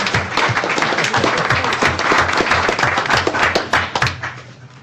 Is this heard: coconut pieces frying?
no